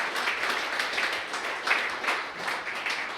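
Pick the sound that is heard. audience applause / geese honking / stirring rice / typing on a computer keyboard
audience applause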